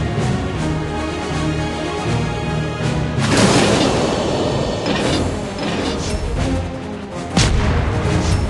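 Naval guns on a Tier 8 Amatsukaze destroyer in World of Warships Blitz fire a heavy boom over a constant engine and sea rumble, followed by rattling mechanical sounds and a sharp second crack near the end.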